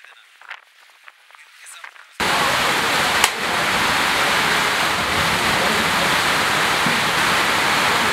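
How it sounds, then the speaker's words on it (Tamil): Steady rain pours down at an outdoor fish market in the Andaman Islands, starting abruptly after quiet talk and then holding as a loud, dense, constant hiss close by. "நாங்கள் இந்த இடத்துக்கு வந்த நேரம் வந்து மழை ஸ்டார்ட் ஆகிடுச்சு"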